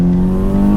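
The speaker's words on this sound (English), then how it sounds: "Phenomenal sound coming out the back of this. It burbles down gears" A 414bhp Volkswagen Golf R Mk6 hot hatch produces a loud, steady, close exhaust drone with a deep low rumble. There is no talk.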